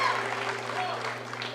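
Home crowd at a high school wrestling match against the Bow Falcons roars and applauds in a steady wash of cheering inside a gym, with speech mixed in.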